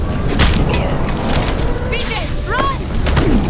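Gunshots in the video game Wolfenstein (2009), sharp bangs and cracks scattered through a tense cutscene, heard under and between voices with mechanical clatter.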